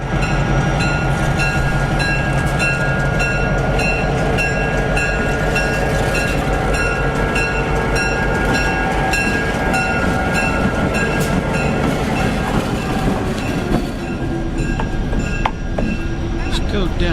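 A Heber Valley Railroad train rumbles loudly and continuously close by, its heavy low drone and rhythmic wheel clatter steady throughout, with a voice faintly audible beneath.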